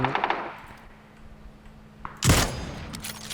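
Video game gunfire: a quick cluster of shots at the start, a quiet stretch, then one loud booming burst near the end trailing into fainter noise.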